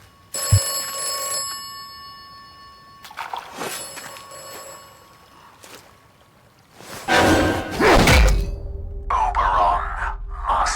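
A telephone rings in a phone booth in a video game trailer, sounding in short bursts separated by gaps, followed later by louder mixed effects and a low swoosh.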